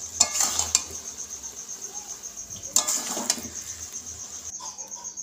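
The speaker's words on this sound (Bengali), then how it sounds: "আমি এভাবেও অনবরত নাড়তে থাকবো, না হলে আমার তলায় ধরে যাবে" A spatula stirring food in a pan to keep it from sticking, with a few scraping strokes over a faint sizzle and a steady high insect-like hiss in the background, close and soft.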